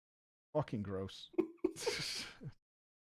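A single close, sharp sneeze erupts with a breathy gasp and snort, and a voice speaks briefly just after it.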